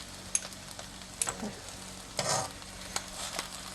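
Corn and chive pancake batter sizzles in hot oil in a pan, a steady close frying hiss with a few brief louder spatters and stirring scrapes, no talk.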